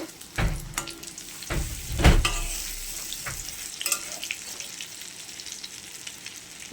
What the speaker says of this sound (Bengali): এবার বড়াগুলো আমি উল্টে দেব।